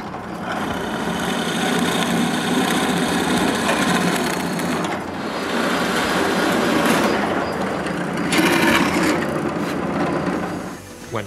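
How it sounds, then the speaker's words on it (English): A power drill whirs loudly through plywood in long continuous bursts, briefly easing before revving up again. "I mark the screwdriver's placement and drill their holes."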